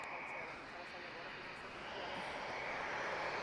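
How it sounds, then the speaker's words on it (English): A TAP Airbus A321neo on approach to Lisbon makes a faint, distant engine rumble that slowly swells as it draws nearer, with a voice talking. "This is an A321neo"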